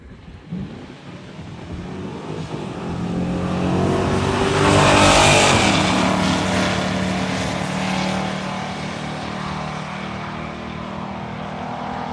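A green 2001 Mustang race car roars down a drag strip, its engine swelling into a loud pass that peaks midway and then trails off as it speeds away.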